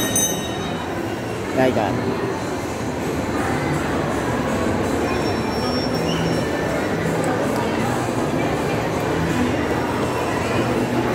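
A train rolls past in a steady, loud rumble with rail clatter and faint wheel squeal, while people talk nearby.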